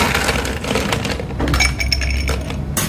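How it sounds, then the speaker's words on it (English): Ice cubes clatter and clink into a glass in a steady busy rush, close and fairly loud, with a brighter rattle near the end, as a vermouth drink is prepared. "I'm gonna fill a glass with ice, a lot of ice"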